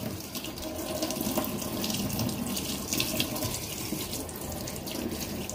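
Tap water runs steadily from a faucet at an indoor sink while indoor plants are washed, a continuous close hiss and splash with slight surges and no talk.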